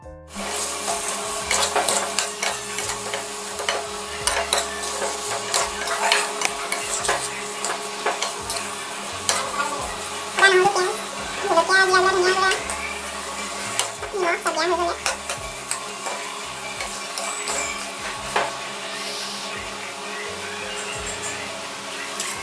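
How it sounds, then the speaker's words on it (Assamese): Chopped tomato, onion, garlic, ginger and chili frying in hot oil in a pan, heard as a steady sizzle under frequent spatula scrapes and clatters, with a louder burst of crackling midway. "ইয়াত তেল গৰম হ'বলৈ দিছোঁ এতিয়া আৰু এইপিনেদি কাটি থোৱা বিলাহী পিঁয়াজ নহৰু আদা জলকীয়া সেইখিনি মই এতিয়া ভাজিম।"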